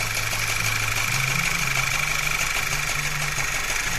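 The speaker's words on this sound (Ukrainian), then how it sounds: "Двигун колбасить, трусить, тобто якийсь циліндр не працює." A 2013 Skoda Superb 1.8 TSI engine idles steadily with an uneven, shaking pulse from a dead cylinder, a rough misfiring rhythm under a constant mechanical hum; no voices.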